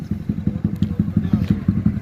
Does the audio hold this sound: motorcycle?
yes